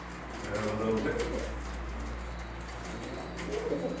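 A male pigeon coos in courtship near a female in a loft. Repeated low, rolling coos sit over a steady background hum, with possible faint voices nearby.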